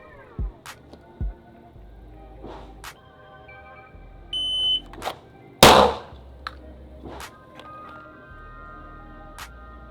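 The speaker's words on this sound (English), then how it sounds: "Alright, so now we got the shot timer." A shot timer for a Glock with a PMM compensator, giving a short tonal electronic beep, followed by a loud, sharp gunshot and several clicks and thumps nearby, with no speech.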